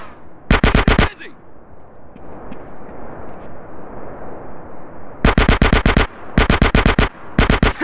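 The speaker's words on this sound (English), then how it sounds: "That was a sniper bullet!" Gunfire in the GTA San Andreas mission Mountain Cloud Boys: loud, rapid bursts of shots, one short volley, a gap filled with rumbling background noise, then several more volleys close together.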